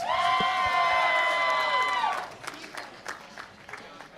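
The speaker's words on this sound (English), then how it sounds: "let's hear some noise for the Blue Alliance" A crowd at a Wisconsin FTC Rover Ruckus robotics championship cheers for the Blue Alliance in a loud burst of shrill screams and whoops lasting about two seconds, then falls to scattered, quieter hall chatter.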